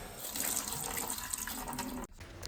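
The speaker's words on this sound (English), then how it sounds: "Once the valve is open, you'll want to open the pressure release valve, which will allow the water to flow." Water runs steadily from an opened drain valve and pressure release valve on a home water heater, a continuous close splashing flow that cuts out briefly near the end before resuming.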